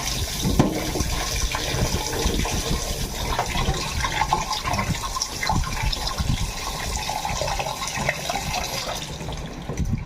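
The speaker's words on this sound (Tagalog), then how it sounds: "Syempre hugasan muna natin. Ayan, hugasan na natin siya." Raw chicken being rinsed under running tap water in a home kitchen, a steady loud gush and splash of water throughout with handling noises and no talking, for a Filipino tomato chicken dish.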